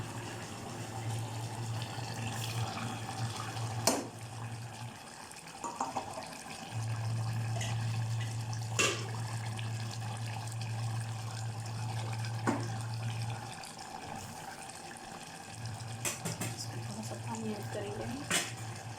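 Meat and potatoes being washed under plenty of running tap water in a home kitchen, a steady hissing stream that runs for long stretches, pauses briefly and resumes, with faint clinks of the pot.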